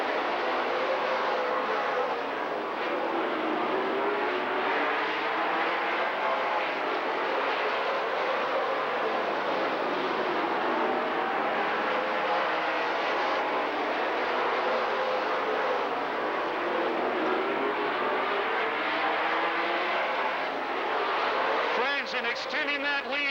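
Race cars lapping Rockford Speedway during the MARS McLeod USA 100 late model event, a continuous loud engine roar from the field that stays steady throughout, with a commentator talking over it.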